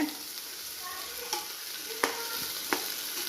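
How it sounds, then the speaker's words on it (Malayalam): Rice sizzles steadily in a hot pan, with a few sharp scrapes of a spoon stirring it at irregular intervals. "എന്നിട്ട് അരി ഇട്ടിട്ട് വറുക്കാം"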